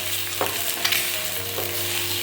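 Egg being stir-fried with leftover puttu in a pan, a steady low sizzle with a few soft scraping stirs of the spatula, close and fairly quiet.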